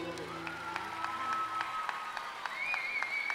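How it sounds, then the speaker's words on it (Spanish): Concert audience applauding at a Santa Fe cumbia festival, a steady dense wash of clapping that fills the clip, with music tones fading out early and a faint voice underneath. "Fuerte el aplauso, señores."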